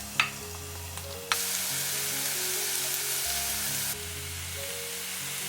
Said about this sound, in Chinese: 起锅热油，把蒜蓉放进来炒香。